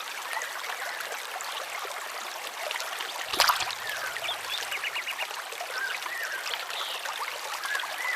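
River water flows steadily and evenly throughout, with one brief splash or knock partway through and no voices.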